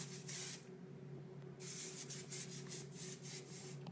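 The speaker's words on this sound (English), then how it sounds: "I hairspray it." Hairspray misted onto styled hair in two bursts, a short hiss and then a longer pulsing spray, close but quiet over a steady background hum.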